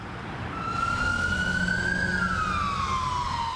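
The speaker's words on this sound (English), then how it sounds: "Police cars, whizzing by." A police car siren wails as it passes by, its pitch rising steadily and then sliding lower as it moves away, loud and continuous over a low traffic rumble, with no talk.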